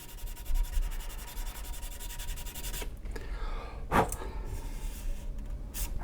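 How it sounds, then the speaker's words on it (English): Steady scratchy rubbing of sandpaper on a small hard plastic part of a 1/48 scale ICM Hampden model kit, continuous for several seconds, with a few sharper scraping strokes and a soft bump near the end. "I think I might have just sanded the worst of it out."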